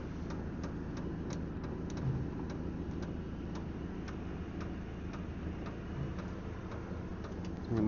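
A diesel heater fuel pump in a Land Rover Defender 90 ticks steadily while priming, a faint, regular clicking over a low engine rumble in the background.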